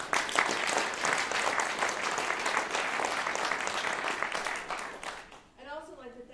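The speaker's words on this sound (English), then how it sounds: "So please give yourself a round of applause." An audience at a benefit concert gives itself a round of applause, dense clapping that holds steady for several seconds before fading, with a voice speaking as it dies away.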